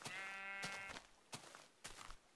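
Sheep bleating in the video game Minecraft: one long, harmonic bleat up close, then a few short thumps and clicks of game activity.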